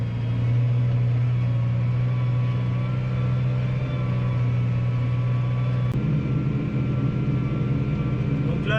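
A tractor hauls a cultivator through a ploughed field at about 8 km/h, its engine giving a steady, loud, close droning rumble throughout, with a slight shift in tone partway through and no talking.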